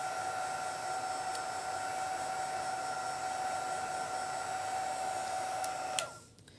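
Heat tool like a card maker's embossing gun, blowing gentle warm air to dry shimmer: a steady whooshing fan hum with a faint whine, continuous and close, cutting off near the end.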